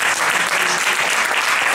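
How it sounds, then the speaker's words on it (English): Steady applause from a conference audience for a panel of spiritual leaders, dense clapping filling the moment at an even, sustained level without a break. "can we give our panel a round of applause for attending here today?"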